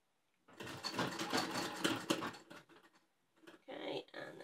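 A sewing machine stitches pleats into a homemade fabric face mask in quick, close bursts of rapid mechanical chatter, pausing briefly between runs, with someone talking softly at times.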